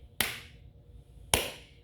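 Two sharp hand claps about a second apart, close and crisp, made in front of a newborn baby to test the startle reflex during a neonatal physical exam, with quiet room tone between them.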